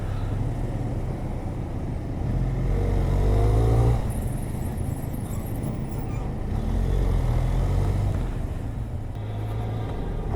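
Dense Bangalore road traffic surrounds a rider on a Benelli TRK 502, with a continuous rumble of cars, buses and trucks close by and engines swelling and easing, plus a brief high hiss partway through.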